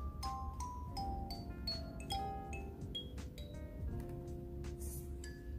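Clear plinking tines of a Kimi acrylic kalimba, plucked notes in a quick melodic run, bright and bell-like, quiet and close with short decays, no voices.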